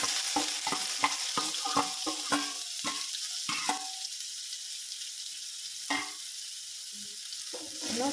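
Bitter gourd sizzles in hot sesame oil, a continuous hiss of frying. Quick clicks of a stirring spoon start out busy and then thin out.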